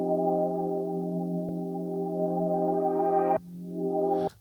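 An electric piano chord resampled and modulated in a sampler for an old-school dub house track: a long sustained chord with a steady tone, briefly cut off and retriggered near the end, played alone.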